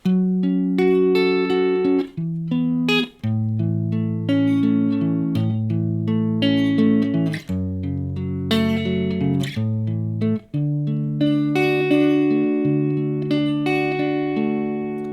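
An acoustic guitar plays the chord progression of a song, ringing chords shifting every couple of seconds with brief breaks between changes, loud and close.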